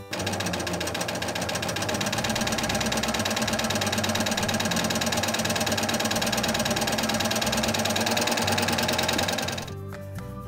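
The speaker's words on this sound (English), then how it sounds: "Your fabric is fed through this channel and is pulled through as your machine stitches." A Baby Lock serger running steadily while stitching fabric through a 3/4-inch belt loop binder attachment, a loud continuous whirring mechanical drone that cuts off just before the end.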